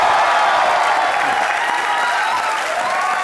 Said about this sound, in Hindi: मेरे दोस्त जॉन इब्राहिम के लिए जोरदार तालियां हो जाएं।